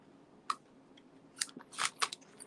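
Scissors snip through succulent-patterned ribbon during card making, giving a few quiet, sharp cuts spaced across a couple of seconds in a calm room.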